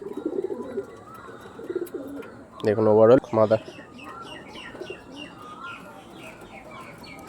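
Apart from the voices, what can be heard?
Andhra tournament pigeons cooing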